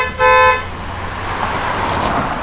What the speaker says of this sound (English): But then I could somehow sense a car coming straight at me.